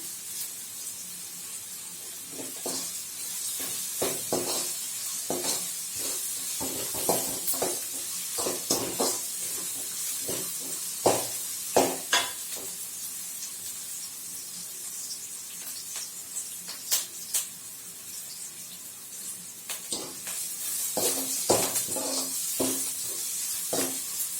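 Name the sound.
onions sautéing in a pan with salt and curry leaves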